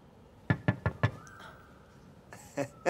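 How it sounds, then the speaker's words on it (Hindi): Four sharp knocks on a bedroom door in a home, evenly spaced and close, followed by a faint tone and a couple of softer knocks or thumps near the end. "अपने घर में अपने कमरे का दरवाजा खटखटा रहा हूँ, मेहमान की तरह अंदर आ रहा हूँ"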